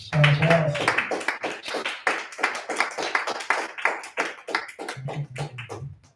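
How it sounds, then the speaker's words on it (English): Scattered clapping from a small audience at a spoken word poetry reading in a gallery, a steady patter of hands close by, with a voice speaking over the start and end. "Douglas. Applause."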